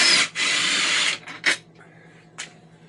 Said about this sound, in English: I'm going to pull these bolts back out now